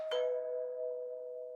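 A neighbor's doorbell rings once, a clean electronic chime that sounds close and clear, then holds a sustained tone that slowly fades in an otherwise quiet setting.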